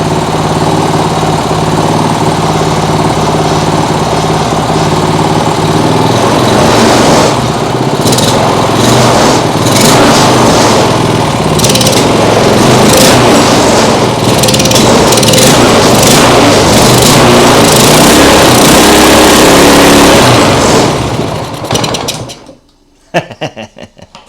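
A lawn mower engine rigged as a boat outboard motor runs loud and close, roaring steadily with rough surging bursts, then cuts out abruptly near the end, leaving brief clatter.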